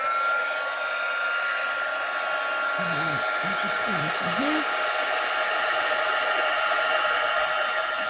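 A heat gun melting embossing powder whirs with a steady, high-pitched blowing hum that runs unbroken throughout, close by, while a person briefly speaks over it.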